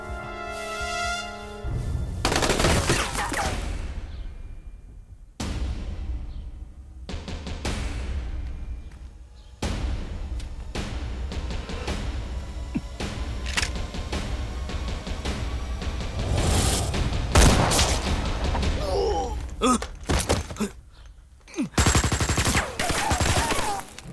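Bursts of gunfire crackle through a Chinese anti-Japanese war film fight scene, rapid machine-gun volleys and scattered single shots with thuds, loud and sustained with brief gaps.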